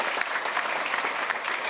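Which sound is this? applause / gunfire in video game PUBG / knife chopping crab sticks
applause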